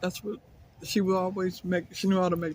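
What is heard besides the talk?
No distinct noise like a dog, phone or traffic.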